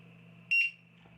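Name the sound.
short beep from Matek F405 flight controller when disarming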